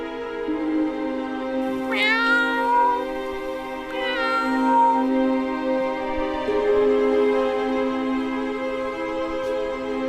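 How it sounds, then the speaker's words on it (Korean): A cat meows twice in a royal palace hall in a Korean historical drama, drawn-out rising-and-falling calls over a steady sustained tonal background. "편전에 고양이 한 마리가 들어온 것"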